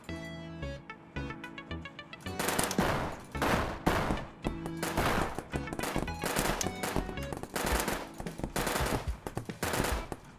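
Gunfire in an FPS chess video game: a long run of loud, rapid automatic bursts, with a few quieter tones before the shooting starts.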